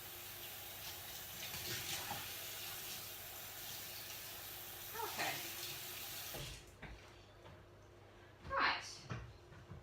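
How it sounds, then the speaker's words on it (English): Tap water rinses new donut pans at a kitchen sink, a steady hissing stream with brief splashes and clatter, ending in louder bursts of running water near the end. "I'm just doing a little cursory wash and rinse off because it's the first time"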